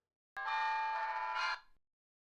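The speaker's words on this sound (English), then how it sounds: "Dane walks up to the door and rings the doorbell." A doorbell chimes once at a front door, a clear two-tone ding-dong ringing loudly and close, then fading out into silence.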